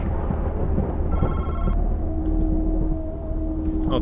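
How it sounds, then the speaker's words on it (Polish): A telephone rings once in the horror game Madison, a short electronic trill that sits over a dense, rumbling ambient background. "Telefon dzwoni, kanał jest w kuchni."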